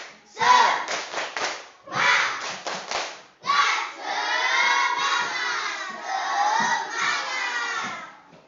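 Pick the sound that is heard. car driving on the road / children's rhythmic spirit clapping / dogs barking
children's rhythmic spirit clapping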